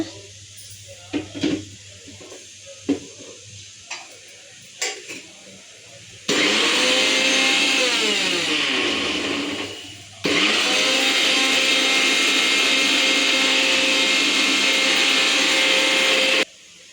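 A kitchen mixer grinder whirs loudly while grinding henna leaves into powder, running in two long bursts with a brief pause between; a few light clinks and handling sounds come before the motor starts.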